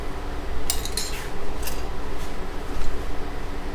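Metal utensil scraping and clinking in a pan as jerk seasoning is mixed into rasta pasta, several short clattering strokes over a steady low kitchen hum, close and without talking.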